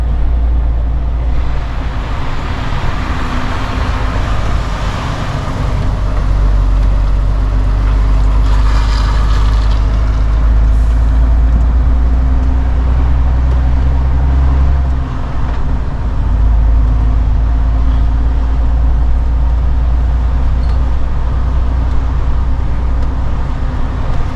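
A heavy low loader truck pulls up to park on a gravel area, its engine producing a loud, steady, deep rumble that runs almost unbroken throughout, with a faint windy hiss on top and no voices.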